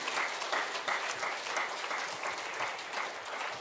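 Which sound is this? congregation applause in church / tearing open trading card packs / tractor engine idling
congregation applause in church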